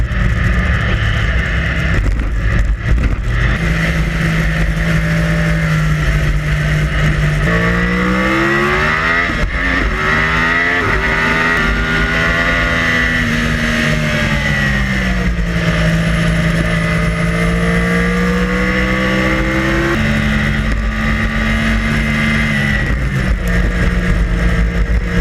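A motorcycle lapping the Laguna Seca race track, its engine loud and close throughout, with rising and falling pitch as it revs up through gears and slows for corners, and no talking.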